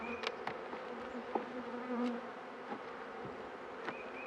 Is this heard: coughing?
no